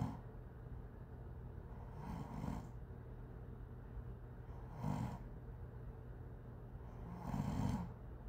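A person snoring in three slow, drawn-out rasping breaths spaced a few seconds apart, fairly close and steady over a constant low hum, with no talking.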